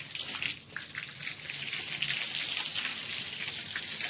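Water poured out in a steady, continuous rush with a bright splashing hiss at a construction site where concrete casting is underway, close and fairly loud throughout.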